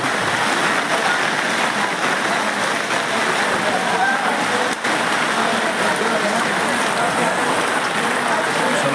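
Rain pours steadily over a traditional open-air market, a dense, even hiss that runs unbroken for the whole stretch, with faint indistinct voices beneath it.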